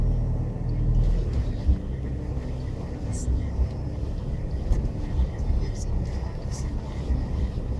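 An eighth-generation Toyota Hilux in four-wheel drive and low range crawls over logs off-road, a low engine rumble with occasional knocks and bumps, under a voice speaking.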